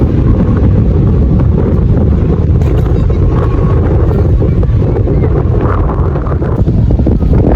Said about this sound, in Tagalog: Talagang sobrang lakas ng hangin.